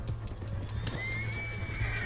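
A horse whinnies with hooves clopping beneath it in Red Dead Redemption 2, a steady low trot under a rising, drawn-out neigh, fairly close and moderately loud.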